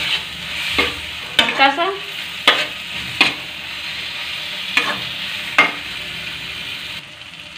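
Capsicum is briefly stir-fried in a pan for tomato pasta, with a close, bright sizzle and several sharp spatula scrapes and knocks, and someone says a few words partway through.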